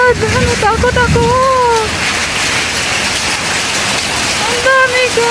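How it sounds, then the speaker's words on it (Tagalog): Heavy rain mixed with hail pounds down on a roof in Gingin, Queensland, a dense constant roar under an excited voice speaking near the start and again at the end. "It's raining like hell."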